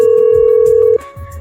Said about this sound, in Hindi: फोन पिक हुआ।